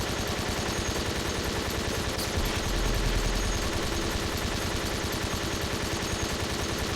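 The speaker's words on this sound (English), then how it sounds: "but now I have to shoot again" Dense, continuous automatic gunfire in the video game Bedlam, a steady unbroken rattle of rapid shots with no pauses, loud and close throughout.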